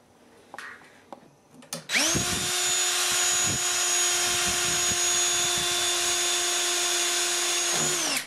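A power tool drives screws into the frame of a boat's banded top, spinning up after a few faint handling taps and whining loudly and steadily for about six seconds before winding down.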